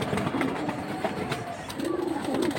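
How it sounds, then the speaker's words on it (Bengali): Silver pigeons, a high-flying breed, coo softly nearby in a pair of low rolling calls over a busy background rustle of other birds, with no speech. "হ্যাঁ সিলভার কবুতর।"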